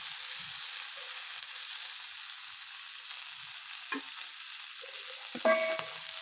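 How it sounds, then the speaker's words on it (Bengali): A pan of mixed vegetables for a curry fries with a soft, low hiss, punctuated by a few clinks of a stirring utensil against the pan, fairly quiet with no one speaking. "দেখতে পাচ্ছেন আমার কিন্তু সবজিগুলো প্রায় ভাজা হয়ে যাচ্ছে।"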